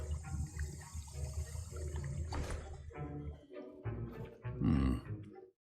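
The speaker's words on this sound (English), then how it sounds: "I see most of you have not forgotten how to stir." Thick potion bubbling and sloshing as it is stirred in a cauldron in Hogwarts Legacy, a steady churning gurgle over faint background music that swells into a louder burbling surge near the end.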